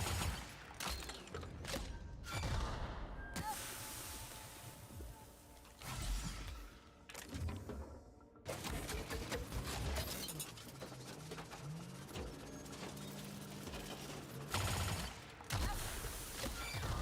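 Rapid bursts of weapon fire from the video game The Outer Worlds, a fusillade of shots punctuated by brief pauses and louder peaks, layered over dense game sound effects, with no talk.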